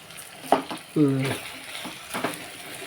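Small-cut potatoes cooking in a pan for a potato and egg dish, with faint sizzling under occasional stirring scrapes and a brief clink of the lid or utensil; a voice speaks softly at moments.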